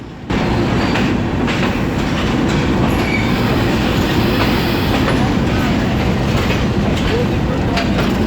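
A rail car rolls steadily along the rails in heavy rain near Rawalpindi, Pakistan, a loud continuous rumble with faint clatter and occasional high squeal, close and unbroken throughout.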